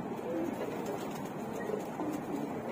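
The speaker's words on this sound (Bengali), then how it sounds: "আর এই যে বামের উপরে একটা রেসারের বাচ্চা অতিথি কবুতর এসে বামে বসে আছে।" Pigeons, including a young racing pigeon, cooing softly on a rooftop, with faint continuous outdoor background noise and no talking.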